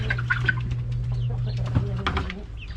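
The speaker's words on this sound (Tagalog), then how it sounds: "dito naman tayo sa aking maliliit na mga manok. Papakainin na natin sila." Young Rhode Island Red chickens cluck and chirp continuously at close range in a backyard coop at feeding time, with a steady low hum underneath.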